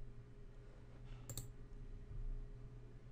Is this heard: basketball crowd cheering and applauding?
no